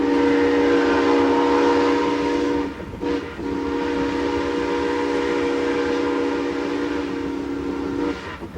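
A steam whistle blows long and loud, a steady piercing tone that breaks off briefly once and then resumes.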